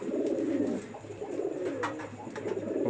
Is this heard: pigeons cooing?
yes